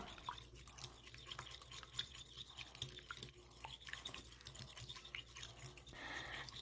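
Eggs are beaten with chopped onion, tomato and spices for French toast, giving quiet, rapid clicking and tapping of a utensil against a bowl in an uneven rhythm, close and soft.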